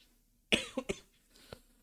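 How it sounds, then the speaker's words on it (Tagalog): A man who is still ill lets out a sharp cough followed by two quicker, smaller coughs and a faint trailing one, close and alone in a quiet room. "May ubo pa rin ako"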